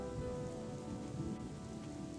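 Steady rain falls in the video game The Chronicles of Myrtana: Archolos, a constant quiet hiss with soft patter and a faint low rumble, heard alone without voices.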